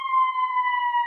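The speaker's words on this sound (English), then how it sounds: "I'm sorry, because of the siren." A siren outside, heard indoors during a seminar class, holding one steady tone with clear overtones throughout. It is loud and constant, with no talk over it.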